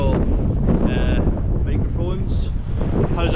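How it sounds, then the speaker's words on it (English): Hurricane wind of around 80 mph buffets a GoPro Hero 10's internal microphones, a loud, continuous roaring rumble with gusty surges and faint crackles throughout. "It's still very windy."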